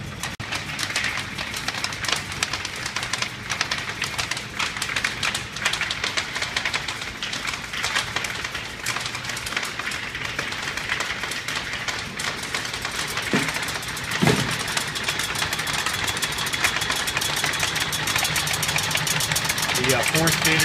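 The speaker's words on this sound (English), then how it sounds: "We're going to run the machine now at 10 RPM." An Eco Press powder press machine runs at 10 RPM, a steady, dense mechanical hum and rattle that continues evenly throughout, with a brief knock partway through.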